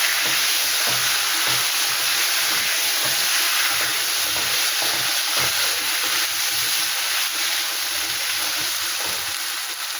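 Turmeric, salt and ginger sizzle in hot oil in a frying pan for a fish curry with ridge gourd and potato, making a loud, continuous hiss with faint, rapid stirring strokes underneath.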